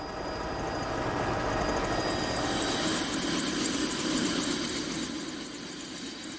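A small aircraft lands on a palm-lined island in Botswana, its engine a steady, loud drone that swells and then eases slightly near the end.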